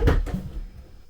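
A lid is set onto a Cosori pressure cooker pot, making a single close, hollow thunk followed by a brief, fading metallic rattle.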